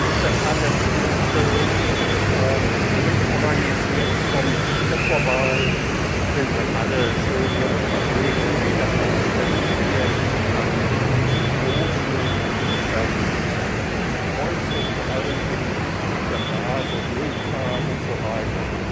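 Constant roar of city road traffic with passing vehicles, while people talk nearby over the steady background rumble.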